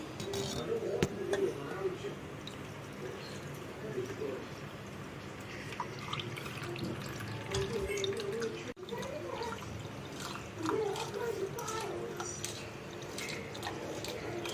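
Aam panna, a sweet raw-mango drink, drips and trickles as it is strained, a soft steady liquid patter with faint voice-like sounds in the background.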